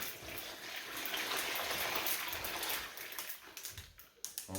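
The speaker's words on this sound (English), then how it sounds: "Pour your ice over the top of it because this is hot" Ice poured over hot turkey brine in a styrofoam container makes a loud, continuous rushing clatter, then breaks into a few scattered knocks as the pour ends.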